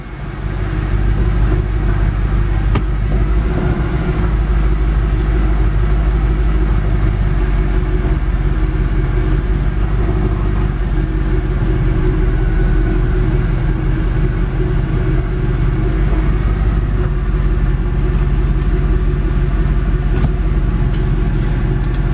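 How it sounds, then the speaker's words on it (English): A Mercedes C63 engine runs steadily with a deep, constant rumble, close and loud, idling without change for a long stretch. "the engine is running and it's very hot with these exhausts here"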